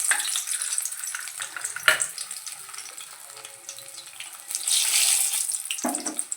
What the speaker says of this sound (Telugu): ఎల్లుల్లిపాయలు బాగా వేగా కదా.